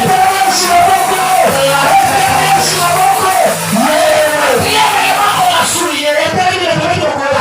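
A church congregation at a Sunday service cheers and acclaims God, a loud continuous crowd roar of yells, whoops and shouts with voices rising and falling, close and sustained.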